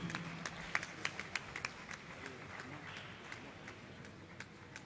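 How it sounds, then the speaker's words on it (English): An audience at an annual conference and general meeting gives scattered, faint applause for a prize winner. Uneven claps are sharpest early on, then thin into a soft, distant patter. "A round of applause for him."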